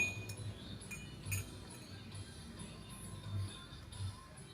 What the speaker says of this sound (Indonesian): setelah itu kita masukkan sendok ke dalam gelas yang berisi air hangat ini